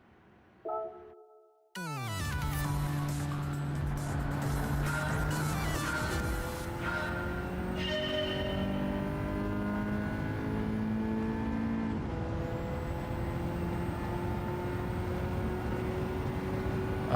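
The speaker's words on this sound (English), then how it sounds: "The Ford Escort RS Cosworth." Ford Escort RS Cosworth rally car in a racing video game, engine starting up and then holding a loud, steady high-revving drone with shifting pitch and gear changes throughout.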